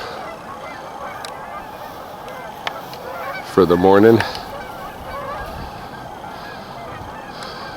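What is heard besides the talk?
geese honking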